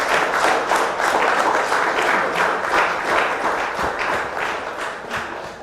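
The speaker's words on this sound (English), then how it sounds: "let's give a round of applause to our facilitator" Sustained applause from an audience at an anniversary memorial lecture, thanking the facilitator. The crowd claps with a steady, dense patter that stays strong, then fades gently toward the end.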